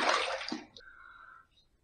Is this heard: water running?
yes